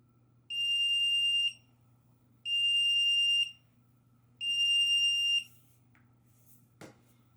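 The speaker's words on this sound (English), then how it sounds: "You can simply tap it, it will beep, and you'll be able to find it" SofabatonX1S universal remote sounding its find-me alert: three evenly spaced, sustained electronic beeps about a second each, clear and close in a quiet room, followed by a faint click.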